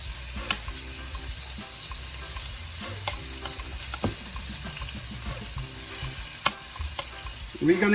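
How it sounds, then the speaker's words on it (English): Vegetables sizzle in hot oil in a Jamaican vegan dish, a soft steady frying hiss with scattered clinks and stirring knocks, fairly quiet and without voices. "Add them to the oil. And they will be frying quite quickly."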